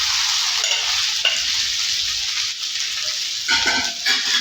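Sabudana mixed with crushed peanut powder sautés in a hot pan for khichdi, a loud continuous frying hiss with occasional stirring scrapes, close up and without talk.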